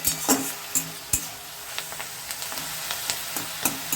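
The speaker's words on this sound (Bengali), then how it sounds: "এই জলটা শুকিয়ে গেলে আমার পাতাটা একটু ভাজা ভাজা হবে" Kohlrabi leaves fry in a covered pan, their released water still cooking off, with soft steady sizzling broken by small crackles and pops, close and fairly quiet.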